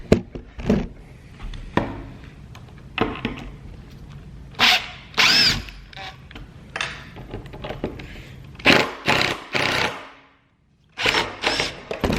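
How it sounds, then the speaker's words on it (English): A power drill backs screws out of the wooden boards of a backyard ski ramp, running in several short, loud whirring bursts separated by pauses and handling noise, close by. "I'm just gonna unscrew these real quick"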